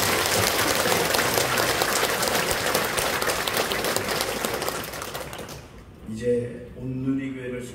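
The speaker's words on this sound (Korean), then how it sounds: "다시 한번 하나님 앞에 우리 영광의 박수." A Korean church congregation at a pastor's installation service claps in loud, sustained applause that fills the hall. The applause fades after about five seconds, and a voice with soft tones follows.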